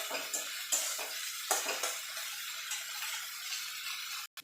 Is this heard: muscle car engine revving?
no